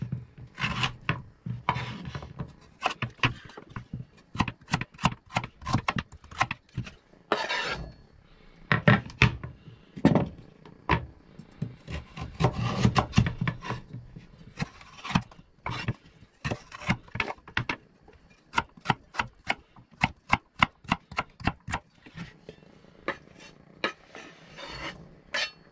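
Carrots being coarsely grated by hand for a veggie curry, a rapid run of rasping strokes with brief pauses between bursts, close up and with no talking.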